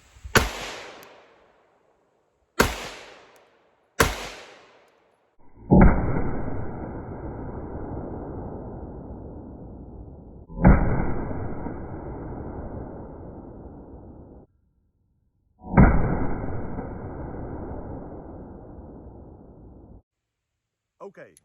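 Sig P365 X Macro compensated pistol firing outdoors: three sharp single shots in quick succession, then three louder, longer-ringing reports spaced several seconds apart, each decaying into an echoing tail.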